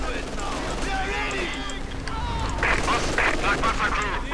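Bursts of gunfire and automatic weapons crackle in a Company of Heroes 2 match between Wehrmacht and opposing forces, rapid shots clustering near the end while players talk over the battle.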